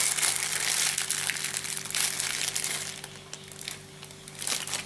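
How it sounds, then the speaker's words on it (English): Plastic being ripped out of a frog fishing lure while making a weed guard, a close, steady run of crinkling and tearing for several seconds. "When you're done, rip the plastic all the way out."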